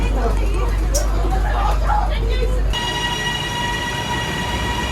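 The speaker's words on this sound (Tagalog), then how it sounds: "Punta kami ngayon sa MRT." A metro train hums and whines in a Bangkok station, steady tonal motor drone rising after a burst of crowd chatter and echoing voices.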